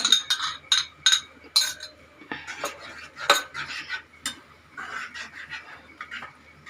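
A spoon scrapes and clinks against a bowl, tapping masala out into a cooking pan for a taro root gravy, in a quick series of sharp metallic knocks followed by softer scraping and stirring.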